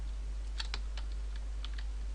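Quiet, sparse keystrokes click on a computer keyboard during a C# programming session, a handful of light taps over a steady low hum.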